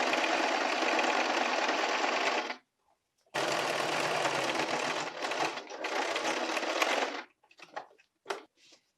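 A sewing machine stitches a trouser waist in two long, loud runs split by a short pause, then ends in a few brief bursts and clicks.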